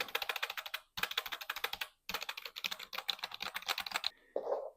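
Steady typing on a lime green ASMR F98 keyboard, close and crisp with rapid clacking keystrokes in three bursts separated by short pauses, then a brief softer sound at the end.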